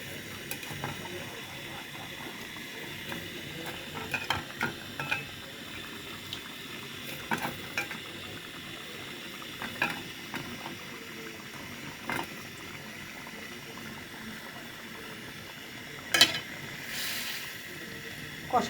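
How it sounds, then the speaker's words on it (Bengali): Beef with pieces of liver stir-fried with spices in a pan, a soft steady sizzle and bubbling broken by scraping and clinking stirs, fairly quiet and close, with brief talk. "মশলা কষানো হচ্ছে। মাংস দেওয়া হচ্ছে, দিয়ে কষাবো।"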